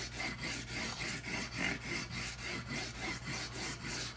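Guitar frets being leveled with 320 grit abrasive, rhythmic back-and-forth rasping strokes about three per second, close and even, repeating steadily with no voices.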